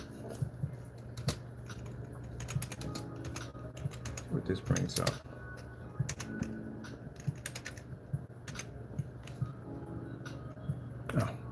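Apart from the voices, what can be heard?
typing on a computer keyboard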